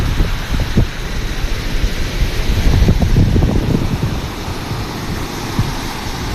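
Strong wind rushes along a seashore where boats sit near rough waves, with a constant loud roar and gusty low rumbling throughout.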